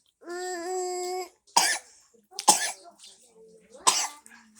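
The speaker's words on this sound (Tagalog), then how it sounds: "Yan, inuubo ka na naman." A voice is followed by three sharp, separate coughs spaced about a second apart, close up, with a short vocal sound between them.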